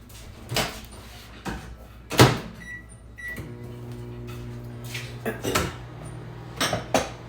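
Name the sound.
putting a dish into the microwave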